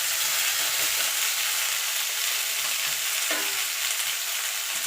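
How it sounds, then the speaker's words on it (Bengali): Mixed vegetables, including papaya, frying in a pan for a light vegetable curry, with a constant loud sizzle and occasional scraping of a spatula stirring through them, close and without talk. "দিয়ে সবজিটা মিনিট খানিক একটুখানি নাড়াচাড়া করে নেবো।"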